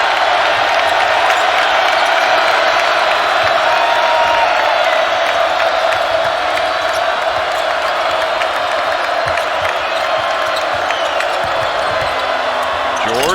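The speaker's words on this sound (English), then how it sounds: "For Dylan Dessou, and here comes the crowd." A large college basketball arena crowd roaring continuously at a Baylor Bears vs Texas Longhorns NCAA game, loud, dense cheering with whoops throughout, and an announcer's voice faintly under the noise.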